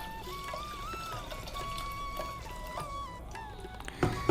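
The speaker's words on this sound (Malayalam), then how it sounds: "ഇനി വേവാനുള്ള ആവശ്യത്തിൻ്റെ വെള്ളം ഒഴിച്ച് കൊടുക്കാം" Water pours into a pressure cooker holding yam pieces, a steady close trickle and splash in a kitchen, with a few louder knocks of the vessel near the end.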